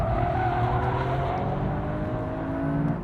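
A Toyota GR Yaris brakes hard on a race track, a loud sustained tire squeal with engine drone that fades slightly as the car slows, close and without talk.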